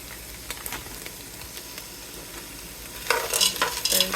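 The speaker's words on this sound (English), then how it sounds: "Stir these around" Frozen mixed vegetables being stirred in a soup pot, quiet scraping and light sizzle that grows into a louder burst of hissing and clattering stirs near the end, no speech.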